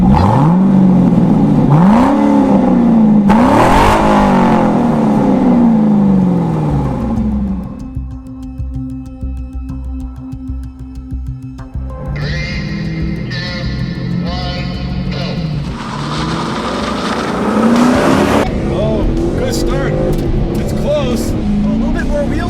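A Ford Mustang and a Chevy Corvette launch in a quarter-mile drag race, one manual and one automatic, engines revving loud and near, rising through gear shifts with brief drops between pulls; people talk over the engines.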